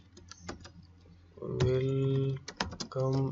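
Someone types code on a computer keyboard for a PHP MySQL login system, making quick clicking keystrokes close by that are partly masked by someone talking.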